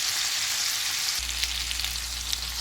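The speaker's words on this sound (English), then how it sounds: "So let's get all these flipped over and get them cooking on the other side" Steak bites sizzle and fry steadily in a hot pan with garlic butter, a continuous close crackling hiss with small pops throughout, no voices.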